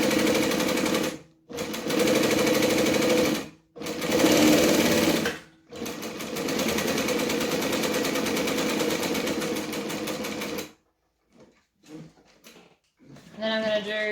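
A sewing machine runs close and loud on its longest stitch setting, in several bursts separated by short pauses. The steady mechanical chatter is followed by quieter handling sounds and a brief bit of talk.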